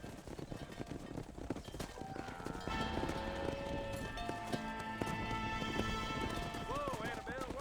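A horse's hooves clip-clop steadily in Red Dead Redemption, close and rhythmic under background music, with a voice speaking over the riding.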